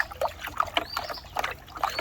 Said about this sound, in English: So I'm gonna give it a quick mix as best as possible.